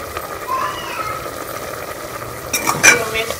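Tomatoes, green chillies and spices fry with chong vegetable in a pan, a continuous sizzle with louder stirring scrapes and clatter near the end.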